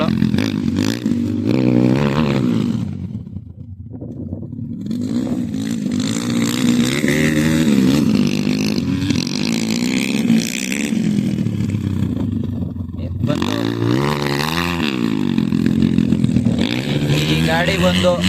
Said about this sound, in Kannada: ಗಾಡಿಗಳಂತೂ ಒಬ್ಬ ರಾಕೆಟ್ ಹೊಡ್ದಂಗೆ ಓಡ್ತಾ ಇದೆ